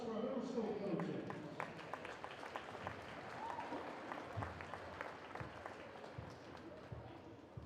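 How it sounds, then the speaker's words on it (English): An audience at a middle school wrestling meet between Pulaski and De Pere applauds the coaches, a steady, dense wash of clapping from a large crowd that fades slightly toward the end. "How about a round of applause for our middle school coaches?"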